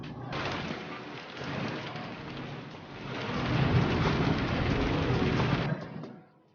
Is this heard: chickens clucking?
no